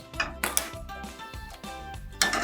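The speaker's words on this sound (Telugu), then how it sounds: "బాండీ పెట్టుకున్నా." A metal wok set down on a gas stove while making ariselu, giving a few sharp clanks and rings of cookware scattered through a short, moderately quiet stretch with no talk.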